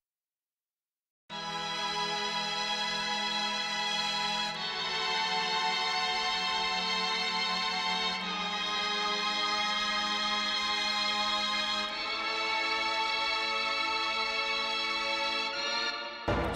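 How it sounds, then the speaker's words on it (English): Mellotron strings play a slow, dramatic sequence of sustained chords, each held for several seconds before shifting to the next, with no other instruments or voices. "Mellotron strings."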